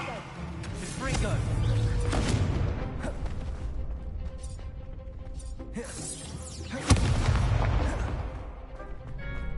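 Spells being cast in the video game Hogwarts Legacy: dense, continuous magical bursts, booms and crackling blasts pile up one after another, with a sharp louder hit near the end and in-game voices over the top.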